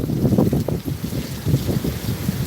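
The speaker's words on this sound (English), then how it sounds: "Here comes another gust of wind" Hurricane Milton wind gusts buffet the microphone outdoors, a loud, continuous low rumble that swells and pulses unevenly over a couple of seconds.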